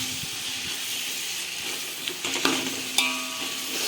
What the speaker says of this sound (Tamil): இப்போ இதை எல்லாத்தையும் சேர்த்து நல்லா வதக்கிடுவேன்